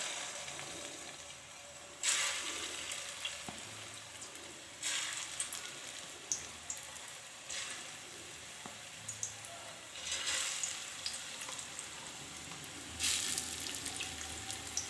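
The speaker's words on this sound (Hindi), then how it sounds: "अब हम इसमें शामिल करेंगे अपने कबाब और इनको अच्छी तरह से फ्राई कर लेंगे।" Chicken kebabs fry in cooking oil in an open wok, a quiet, steady sizzle that swells into several louder hissing surges every few seconds, with faint kitchen clatter and no talk.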